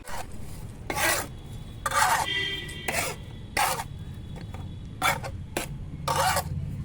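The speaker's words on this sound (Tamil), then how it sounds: "மண் கலவையை மிக்ஸ் பண்ணி இந்த தொட்டியில் போட்டுடலாம்." Potting soil mix being stirred and scooped into a planting pot, heard as repeated coarse gritty rasping bursts, about seven scrapes at irregular intervals, close and fairly loud, with no talking.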